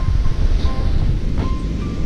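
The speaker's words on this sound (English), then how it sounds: "It's getting pretty gusty here in where I live" Gusty wind outdoors before a storm, a loud, continuous roaring rush with buffeting against the microphone and no voices.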